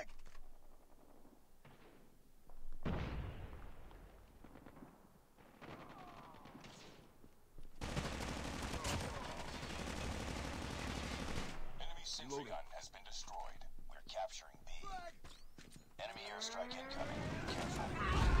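Video game gunfire from Call of Duty Mobile: bursts of automatic fire and sharp shots recur through the clip, loudest in a long dense volley in the middle. A voice talks over parts of it.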